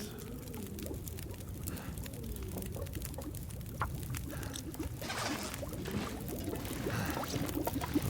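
Pot of water boiling over a fire while cooking in The Long Dark, a steady close bubbling and rolling simmer with soft popping that continues without a break.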